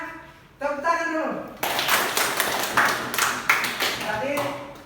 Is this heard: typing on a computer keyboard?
no